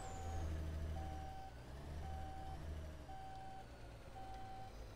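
A semi truck reverses in the Alaska Truck Simulator game, its backup alarm beeping five times at a steady, even rhythm over a continuous low diesel engine rumble.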